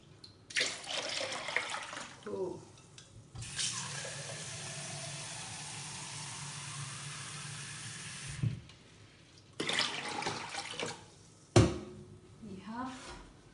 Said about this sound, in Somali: waxaa ku soo darsanaya biyo qabow ah.